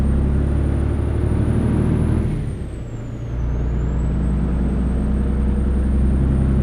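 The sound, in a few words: truck engine, from a video game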